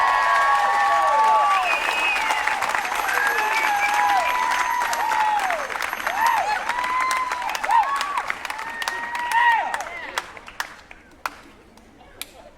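A crowd at a hip-hop concert in Lexington, Kentucky applauds and cheers loudly, with whistles and whoops over the clapping, which thins into scattered claps near the end.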